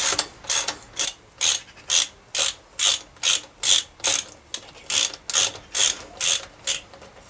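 A ratchet wrench clicks in regular bursts as it tightens a bicycle crank during the rebuild of a 1997 Scott 696 retro mountain bike. About fifteen close, even strokes repeat at a steady rhythm with no talk.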